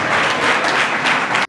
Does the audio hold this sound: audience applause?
yes